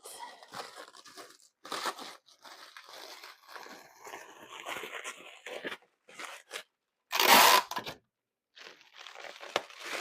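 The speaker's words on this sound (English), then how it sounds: "I'm just taping it, kind of folding it to where it's not just kind of hanging off." Packing tape pulled and pressed onto a package being wrapped, with repeated crinkly ripping and crackling bursts and one loud tearing screech, close and irregular, with no talking.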